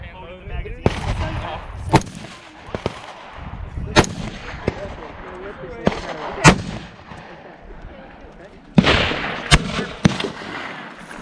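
Rifle shots at an outdoor shooting range on Long Island ring out as sharp, loud cracks about every two seconds, spaced irregularly over a constant background rumble and chatter.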